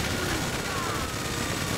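Dense, continuous rattle of gunfire in Grand Theft Auto V, the Paleto Score mission roadblock, steady and loud throughout with no pauses, over a noisy backdrop.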